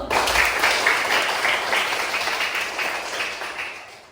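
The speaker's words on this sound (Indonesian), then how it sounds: "Tepuk tangan buat Desu." Classroom of fourth-grade children clapping together in a steady, dense burst of applause that fills the room, loud and continuous, with faint voices mixed in before it fades slightly at the end.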